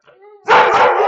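A dog at home lets out a short whine, then a loud, close, sustained bark that fills the rest of the moment.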